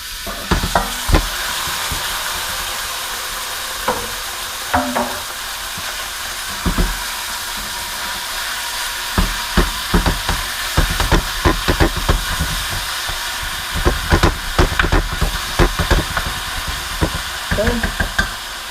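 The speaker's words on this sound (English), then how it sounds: "my first step is going to be browning my ground beef" Ground beef browns in a pan with a steady sizzle and hiss, broken by repeated knocks and scrapes of a wooden spoon stirring the meat, close and fairly quiet.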